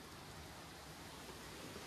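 Rain falls steadily outside a water-powered sawmill that has been running since 1936, a faint, even hiss of drops with no distinct strikes or voices.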